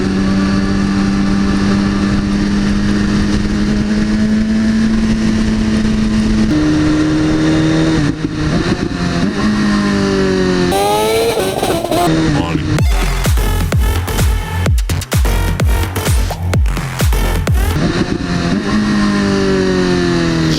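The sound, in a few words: Lamborghini Aventador engine revving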